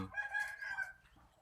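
A single bird call, drawn out and throaty, sounds faintly for about a second before fading.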